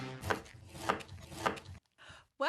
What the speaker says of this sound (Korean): 웨이브 칼날 설계로 힘주지 않아도 쓱쓱. 굵은 철사줄도 뚝뚝뚝. 꽁꽁한 냉동 고기도 가볍게 쓱쓱.